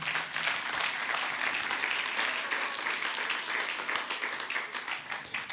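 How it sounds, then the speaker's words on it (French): Gospel music talent show audience applauds a worship leader after his performance, a continuous crowd of clapping hands at moderate distance, fairly steady with slight surges. "est-ce qu'on peut applaudir Junior encore?"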